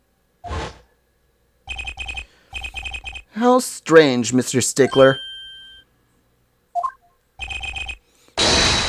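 Cell phone ringing in Apollo Justice: Ace Attorney, a repeating electronic ring in short evenly spaced bursts, broken by a stretch of voice and game sound effects midway.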